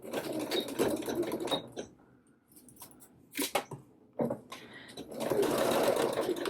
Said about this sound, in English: now we're just going to go around and sew around that neckline